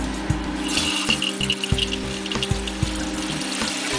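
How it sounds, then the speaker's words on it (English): Cold tap water runs into a kitchen sink as mushrooms are rinsed, a steady splashing stream broken by small clunks and rattles of handling, fairly close and with no talking. "now we're going to rinse and slice our mushrooms"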